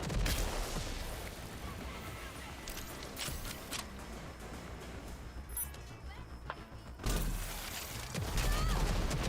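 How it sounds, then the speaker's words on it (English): A rocket launcher fires in the video game Rage 2, bursting loud at the start and again near the end over a rumbling, noisy background, with a player talking around it. "Firing rocket!"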